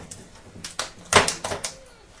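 A knife chops a shallot on a cutting board, giving a few separate, uneven knocks close by over two seconds, with no talk.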